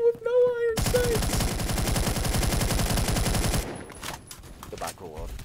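A video-game rifle fires a long, rapid automatic burst of evenly spaced shots that lasts several seconds and then stops. Brief game tones come before the burst, with scattered fainter sounds afterward.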